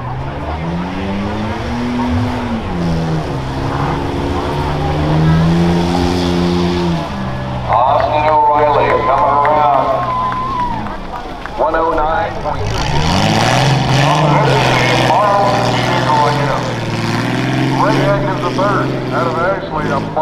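Stock-class rough trucks race at the 2021 Hartford fair with loud, close engines revving and straining through gear changes. Tires skid at moments while an announcer talks over the sustained roar.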